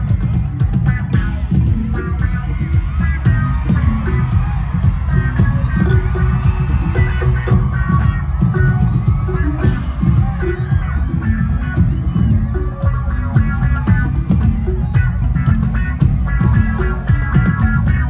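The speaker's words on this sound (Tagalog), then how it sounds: "Malakas na hiyawan muli para kay Senator Tito Soto!" A large crowd cheers loudly for Senator Tito Sotto at a rally, a dense, continuous roar of shouting voices that holds steady and loud throughout.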